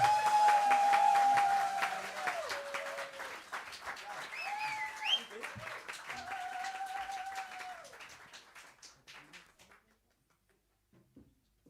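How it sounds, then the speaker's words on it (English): An audience at a masterclass applauds with loud, dense clapping that slowly thins out and fades to scattered claps; a voice speaks briefly over the noise. "Give him a round of applause"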